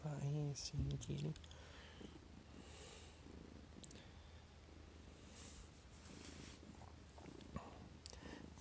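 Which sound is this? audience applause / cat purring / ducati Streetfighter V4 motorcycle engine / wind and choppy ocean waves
cat purring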